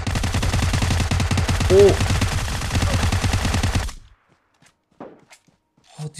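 Rapid automatic gunfire in PUBG Mobile, dense bursts of shots with footsteps, loud and close for about four seconds before cutting to near silence with a brief exclamation and faint sounds.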